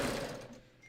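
A sewing machine chains off after finishing a seam on a raglan sleeve top, giving a fast mechanical whir that fades out within a second, close and fairly quiet.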